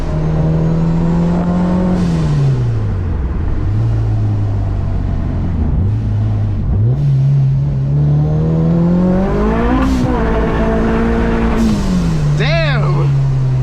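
A 400 whp Kraftwerks-supercharged Honda Civic Si accelerates hard through the gears, its loud engine rising in pitch, dropping at each shift and climbing again, with a brief squeal near the end, heard from inside the car.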